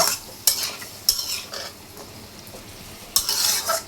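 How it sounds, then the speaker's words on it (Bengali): A spoon scrapes and stirs potato and bottle gourd curry in a hot pan, bursts of sizzle with each stir over a low steady fry, utensil clinks recurring every second or so, no voices. "এখন এখানে আমি আলু আর লাউ ডুগাগুলো দিয়ে তরকারিটা ভালো করে কষিয়ে নেব"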